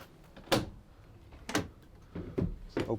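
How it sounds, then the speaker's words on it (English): Twin solid rear doors on a 2016 Ford Transit Custom 2.2 TDCi L2H1 van give several separate clunks and latch clicks, close and fairly loud, with short pauses between them. "Twin solid rear doors,"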